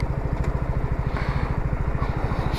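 A Hanway Muscle 125 motorcycle that had stood unused for a long time idles nearby with a rapid, even putter and a light mechanical clatter, its engine warning light on, steady and loud throughout.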